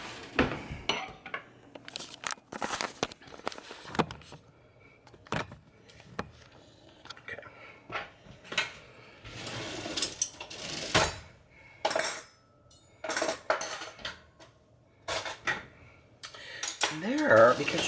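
Dishes being washed by hand at a kitchen sink, with cutlery and pots clinking, clattering and scraping in irregular bursts, close and fairly loud with short quiet gaps.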